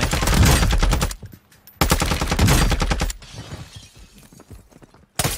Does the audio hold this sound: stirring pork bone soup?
no